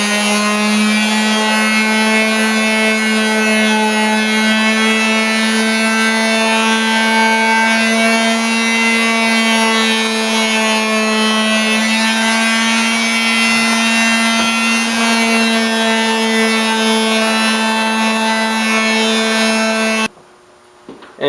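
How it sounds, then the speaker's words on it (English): Quarter sheet sander with 220 grit sandpaper working on wood, a loud, steady electric whine and buzz that runs without a break for about twenty seconds, then cuts off abruptly. "So just the quarter sheet sander with a 220."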